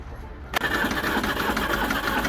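A Land Rover Series III, a barn find under rescue in a workshop, starts on a new battery: a sharp crank catch after a brief quiet, then a loud, steady running engine clatter close by.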